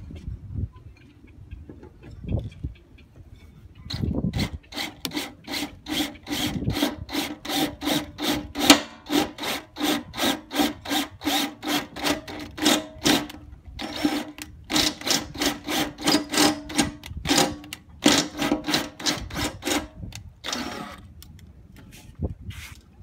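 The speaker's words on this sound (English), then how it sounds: "start a big hole so I can get my jigsaw in, and then cut around" A jigsaw cuts an access hole in a sailboat's diesel fuel tank, a steady rapid rasping buzz running close and loud for most of the stretch, with brief stops and restarts and a few knocks before it begins.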